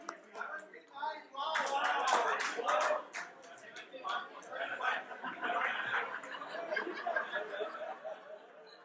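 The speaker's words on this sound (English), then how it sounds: "please give yourselves a round of applause for doing this" Workshop participants applaud together in an indoor session, a dense burst of hand clapping mixed with chuckles and laughter that swells, then tapers into scattered claps under lingering chatter.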